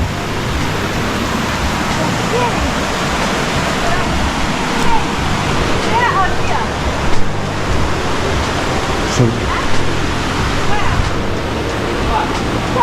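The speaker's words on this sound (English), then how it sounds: "the river is real, and this river is the same river that's coming from the blue hole" A fast river running from the Blue Hole in Jamaica gives a loud, continuous rushing roar close at hand, with faint voices and small splashes breaking through now and then.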